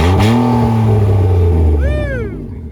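A BMW race car engine revs hard through its exhaust, a loud close roar that holds steady, then rises in a quick blip before dropping away toward the end.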